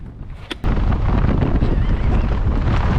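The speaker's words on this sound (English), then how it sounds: "we've got 57 mile an hour gusting winds" Strong gusts of around 57 mph roar and buffet the microphone on Coledale Pike's 791-metre summit in the Lake District, a sudden loud, steady rush that begins after a brief quieter moment.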